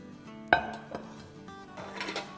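A serving dish for shahi malai tukray is set down with one sharp, ringing clink, then quieter kitchen handling noises follow.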